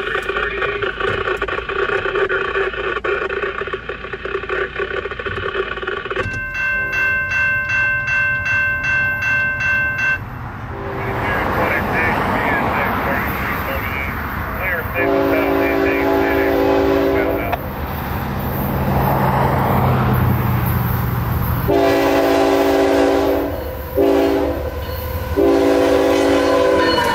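A CSX freight train passes a Central Florida grade crossing with loud, repeated horn blasts, the locomotive rumbling and cars clattering by close, a crossing bell ringing at the start, and brief talk mixed in.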